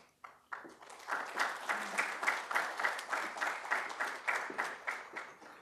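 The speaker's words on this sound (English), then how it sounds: "Let's have a big round of applause for all of them." Conference audience applauding guests as they are called to the dais at an IT plenary session, a soft start swelling into steady rhythmic clapping with clear periodic pulses, moderately distant and sustained.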